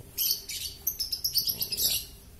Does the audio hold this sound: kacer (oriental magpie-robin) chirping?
yes